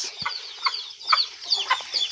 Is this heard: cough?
no